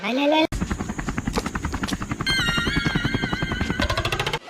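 A large helicopter thunders close by with a fast, heavy rhythmic whop of rotor blades, loud and steady, while a voice speaks over it.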